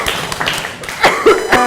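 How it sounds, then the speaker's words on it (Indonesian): Classroom students give a brief, scattered round of hand clapping, a few uneven taps and claps close by with a voice breaking in near the end. "Tepuk tangan buat sales deh."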